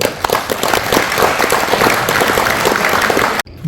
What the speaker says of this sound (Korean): 여러분 큰 박수 주십시오.